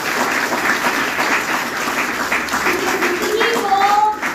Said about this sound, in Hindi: एक बार तालियां अपने लिए.